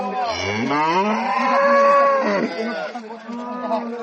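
Close, loud drawn-out lowing from a dairy cow at the Raniganj cattle market, one sustained moo that fades into quieter calls, with little else around it.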